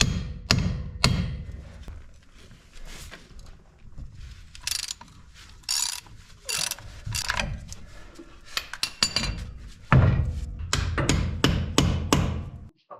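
Sharp metallic hammer strikes on a 2003 Ford F250 7.3 Powerstroke 4x4 front end, knocking a ball joint loose, with irregular bursts of close, ringing clanks separated by short pauses.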